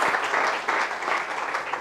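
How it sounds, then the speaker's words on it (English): Steady applause from an audience at a business event where companies are showcased, continuous and fairly full for under two seconds with no voices. "Please give a warm round of applause."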